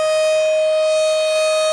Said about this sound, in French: c'est ça c'est un son sirène tout bouillon